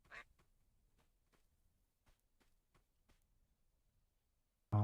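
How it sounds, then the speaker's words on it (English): A cartoon duck in the shooter game Duckov quacks in a quick run of short, faint quacks spaced irregularly across a quiet background, ending with a sudden loud burst. "I heard a quack."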